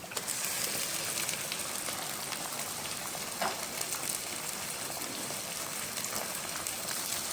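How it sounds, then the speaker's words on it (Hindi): Chicken fries with onions in a pot for biryani, making a steady, moderately quiet sizzling hiss with scattered pops that carries on without a break. "चिकन को अब हम भूनेंगे कि ये पिंक से वाइट हो जाए।"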